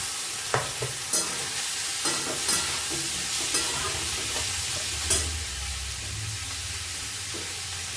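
Tomato cooks in a simmering pan of Bengali uttapam batter, with a constant soft sizzle and several sharp knocks and scrapes of a spoon against the pan.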